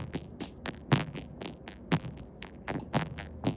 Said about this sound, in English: Another one is using the noise in the vocoder.